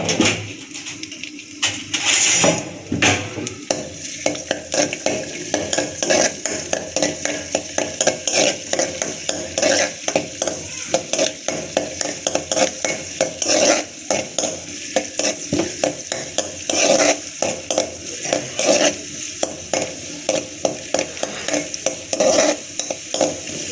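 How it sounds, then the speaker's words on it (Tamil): Cashews and raisins fry in hot ghee for beetroot halwa, a steady sizzle under repeated scraping and stirring strokes of a spoon against the pan, close and rhythmic throughout. "நெய் காஞ்சதும் முந்திரி, திராட்சை இதெல்லாம் வறுத்து எடுத்துக்கோங்க"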